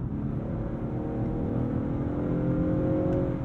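A 2022 Honda Accord 2.0T Sport accelerates hard, its turbocharged engine whirring and climbing steadily through the revs, close and continuous with no talking.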